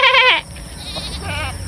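A goat gives a single loud, close bleat with a wavering, harmonic cry that breaks off abruptly, followed by a quieter second bleat after a pause, over faint farmyard background.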